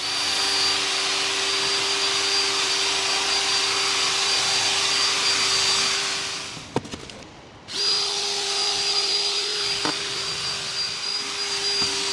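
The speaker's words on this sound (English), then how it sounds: "The vacuum stage will remove the majority of the loose dirt." A vacuum cleaner cleaning a Range Rover's carpets whines loudly and steadily, cutting out briefly with a clunk partway through before starting up again.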